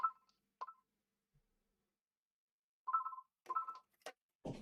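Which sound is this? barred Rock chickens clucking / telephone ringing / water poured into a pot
telephone ringing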